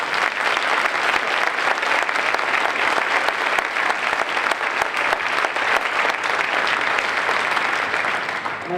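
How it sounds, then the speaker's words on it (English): An audience at a school spring band concert applauds steadily, a dense wash of clapping that holds at an even level throughout without tapering off. "I'd like to give her a round of applause."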